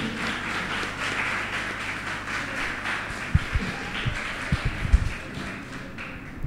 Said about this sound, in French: On ovationne encore très très fort pour la présentation